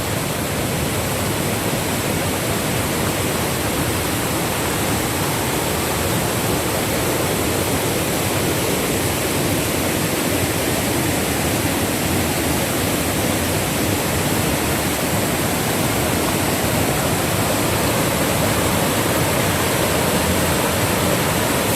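Steady, loud broadband rush of the rain-swollen Niger River in Manchester, Jamaica, continuous and unbroken throughout, roaring close by with no voices.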